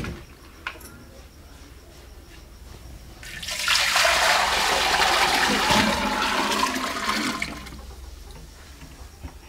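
Water rushes and splashes loudly into a pot while Jeevamrit is being prepared, building up after a few seconds and pouring steadily for several seconds before tapering off, over a faint background.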